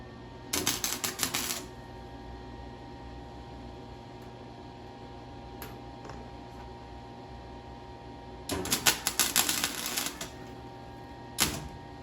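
An electric welder strikes an arc on thick steel in two loud bursts of crackling, sputtering buzz, each about a second or two long and separated by a quiet stretch, then ends with a brief final crackle.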